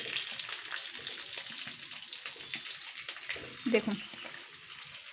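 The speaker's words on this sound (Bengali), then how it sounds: "তেলটা মোটামুটি গরম হয়ে গেছে কিন্তু। এবার কারি পাতাগুলো দিয়ে দেবো" Curry leaves fry in hot oil for a semolina breakfast snack, giving a steady, close hiss of sizzling throughout. A voice speaks briefly over it.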